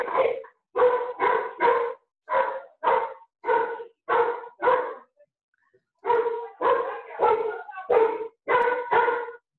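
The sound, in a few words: dog barking over an open microphone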